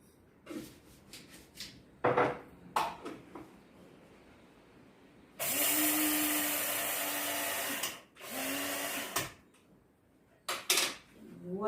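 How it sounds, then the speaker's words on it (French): A blender grinding sesame seeds for gluten-free bread whirs in one loud, steady burst lasting a few seconds, then a shorter second burst, with kitchen clatter and handling knocks around it. "Donc je vais mixer les graines de sésame d'abord."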